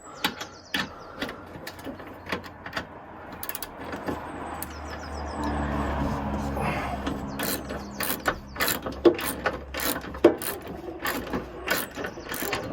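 A spanner ratchets on a bolt while a V8 engine is refitted into a Marcos Mantula engine bay, with close, irregular bursts of quick metallic clicking, separated by short pauses and clanks.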